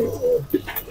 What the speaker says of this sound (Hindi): इतने प्यारे प्यारे कबूतर